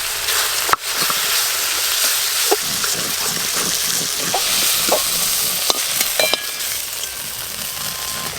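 Ginger, garlic and cumin paste fries in oil, a dense close sizzle with stirring scrapes, occasional sharp crackles and a few light clinks, no one talking.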